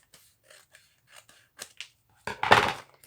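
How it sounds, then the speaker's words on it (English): Scissors trim paper for a junk journal page, a few faint snips and rustles early on, then a louder, longer run of cutting near the end. "I'll trim whatever part of the paper I don't want"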